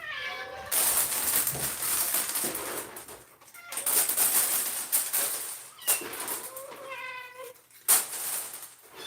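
Several cats meow repeatedly, close by and fairly loud, in short overlapping calls with brief pauses between them.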